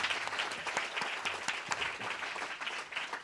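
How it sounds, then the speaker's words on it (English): Audience at an international seminar business breakfast applauding panelists: dense, sustained clapping from a full room, steady and fairly loud throughout with no talk over it. "Can we please give all our panelists a huge round of applause?"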